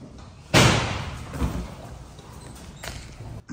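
A monkey works at a latched drawer, giving a sudden loud bang of wood, then softer thumps and rattles, close by and with no talk.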